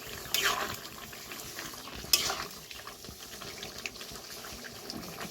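A spoon stirs a vegetarian jackfruit curd curry in a pot, making soft, quiet scrapes and a couple of sharper clinks against the metal, with faint bubbling underneath.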